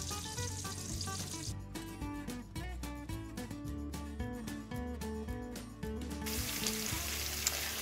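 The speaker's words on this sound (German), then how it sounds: "Nun kommt ins heiße Bratfett unsere beiden Zwiebeln. Die lassen wir kurz anschmoren." Two onions sizzle in hot frying fat in a pan, a steady hiss that is clearest at the start and end. Background music with a bouncing melody plays loudly over it throughout.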